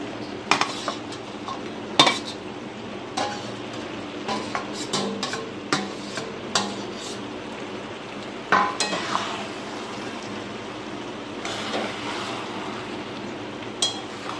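Fried fish heads go into a pot of simmering, partly cooked rice and are stirred in, with a spoon clinking and scraping against the pot in irregular bursts over a soft bubbling background, close by and with no talking.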